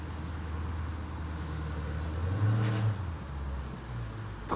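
A 2019 Dodge Challenger R/T or Ford Mustang GT V8 engine idles with a low rumble, then swells into a short throaty rev before settling again, heard at moderate distance with no voices.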